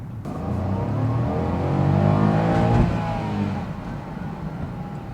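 A Honda S660 engine revs up strongly in first gear on a mountain road, rising in pitch to a peak near the middle, then eases off and settles into a steady drone.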